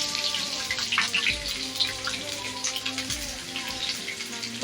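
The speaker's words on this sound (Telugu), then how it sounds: "ఇలా కొద్దిగా కరివేపాకు కొద్దిగా వెల్లిగడ్డ సన్నగా కట్ చేసి పెట్టుకున్నాను నేను కూడా కొద్దిగా బాగా ఫ్రై ఫ్రై అవ్వాలి" Thinly sliced garlic and curry leaves frying in hot oil while making a potato fry: a steady, bright sizzle and crackle with a few soft low thumps as the pan is stirred.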